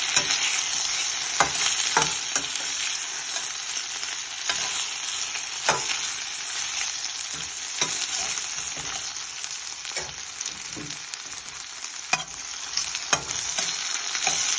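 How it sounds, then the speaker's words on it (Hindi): Taro root (arvi) fries in a pan while being stirred, a steady bright sizzle throughout with irregular scraping clicks from the spoon, close and with no talking. "हम इस मौके पे इसमें अरवी डाल देते हैं।"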